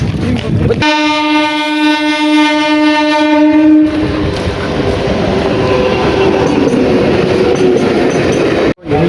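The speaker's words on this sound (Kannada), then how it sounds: "ಗೈಸ್ ಟ್ರೈನ್ ಬಂತು ಗೈಸ್" A train horn blares loudly for about three seconds, then the heavy rumble and clatter of the train rolling past close by.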